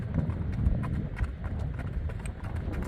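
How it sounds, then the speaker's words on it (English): Hooves beat in a quick, rhythmic clip-clop as an 8-year-old, 16-hand Tennessee Walking Horse canters, fairly close, over a low rumbling outdoor background in Kentucky. "I love a walking horse when they canter."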